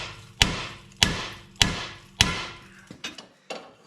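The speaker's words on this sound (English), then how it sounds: "Hammer, strike the end of the knuckle." Hammer blows on the end of a steering knuckle during subframe work on a 2005 Ford Escape: four loud, evenly spaced metallic strikes with ringing decay, followed by a few lighter taps, no talking.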